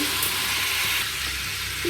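Three green cardamom pods and two cinnamon sticks spit and sizzle in hot oil for a prawn pulao, a steady close, loud crackling hiss with no voices.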